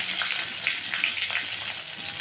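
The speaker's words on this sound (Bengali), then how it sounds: "এখন ওই তেলের মধ্যে একটু কালো জিরে ফোড়ন দিলাম 3টে চেরা কাঁচা লঙ্কা" Black cumin seeds and three slit green chillies spit and crackle in hot oil, a loud, dense, close sizzle with rapid pops and bursts running steadily throughout, no voices.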